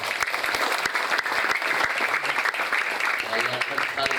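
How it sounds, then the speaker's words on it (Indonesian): An audience at an Islamic sermon applauds for parents, with dense, sustained clapping and a few sharp individual claps standing out, while a voice speaks over it. "Tepuk tangan buat orang tua kita semua"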